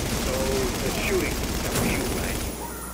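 Dense gunfire in the video game The Division, in a subway morgue, rattles in rapid overlapping bursts, loud and close, with faint tonal game sounds and some voice activity mixed underneath.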